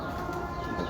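Pigeons kept by a Sialkot pigeon fancier coo in a soft, low, continuous murmur, brief and close, with no voices over it.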